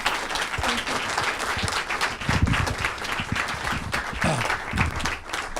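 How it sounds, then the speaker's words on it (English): An audience at a TV and radio show gives a big round of applause, a dense, continuous clatter of many hands with a few louder nearby claps standing out. "let's give a big round of applause"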